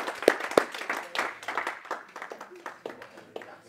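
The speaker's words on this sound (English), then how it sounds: "Can we give Pierre a hand clap as he comes?" Audience members at a podcast event clap for a man coming up to the stage, a few loud close claps followed by scattered, thinning applause, with voices talking over it.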